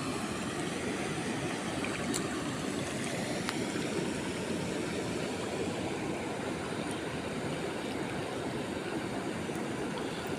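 Canal water flows steadily along a bank with litter in the water, a continuous broad rushing wash that stays even and close throughout, with no voices.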